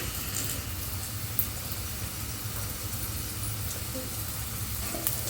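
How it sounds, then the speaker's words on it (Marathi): Chopped onion and tomato sautéing in a hot pan, giving a steady, even sizzle close by with a couple of faint clicks and no talk. "आता भाजी बनवून घेते मी इथं कांदा परतून घेते टोमॅटो परतून झाला आहे"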